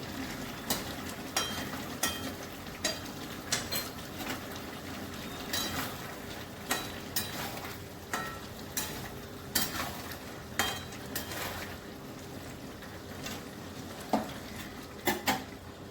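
Ghee and garam masala being stirred into a potato, pointed gourd and pumpkin curry with prawns in a pan, with repeated sharp scrapes and clinks of a spoon against metal over a low steady simmer, no talking.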